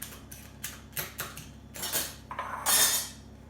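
A carrot being scraped with a vegetable peeler in a home kitchen while making red lentil and quinoa soup: a series of quick, crisp scraping strokes with light clinks of metal, close and fairly quiet, ending in a longer, louder rasp.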